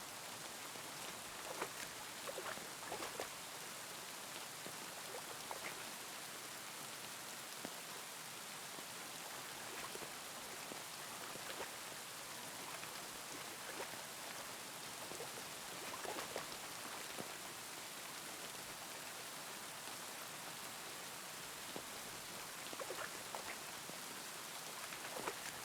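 Heavy rain pours steadily in the video game Kingdom Come Deliverance 2, a dense, unbroken hiss of drops spattering on surfaces throughout, even and enveloping with no voices.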